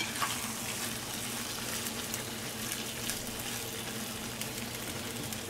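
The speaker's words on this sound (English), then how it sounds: "You're going to just mix this for approximately 2 minutes" Sweet and sour tofu with pineapple being stirred in a hot pan, a constant soft sizzle with light scraping and occasional crackles, steady and even, with a low hum underneath.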